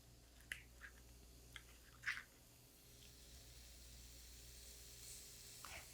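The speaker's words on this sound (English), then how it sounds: "You always want to hear that nice sizzle." Chicken nuggets dropped into a warm pan sprayed with oil, sizzling softly with a few sharp crackles and pops over a low steady hiss, quiet and close, with no talk.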